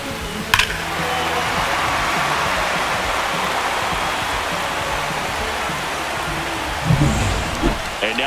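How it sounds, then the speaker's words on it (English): Steady rain pours down throughout a Texas Rangers versus New York Yankees baseball game, a dense, even wash of drops on surfaces with a couple of brief knocks in the mix. "This rain is not letting up."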